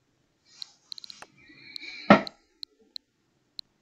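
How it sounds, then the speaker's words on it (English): Creaks and squeaks from a chair shifting under someone at a desk, with a few quick clicks and one louder scrape-thump in the middle, close and fairly faint in a quiet room. "that was my chair"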